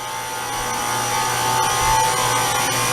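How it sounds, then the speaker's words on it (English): Hotel ice machine in an ice and vending area at the Excalibur in Las Vegas, a loud steady mechanical hum and whir with a constant tonal drone and slight rise midway, close and continuous. "That's actually the ice machine making all that noise."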